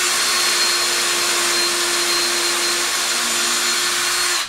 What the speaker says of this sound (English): on my twist drill here need to go almost all the way up to this collar to get all the way through this wood